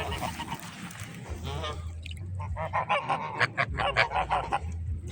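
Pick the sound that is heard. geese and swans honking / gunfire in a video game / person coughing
geese and swans honking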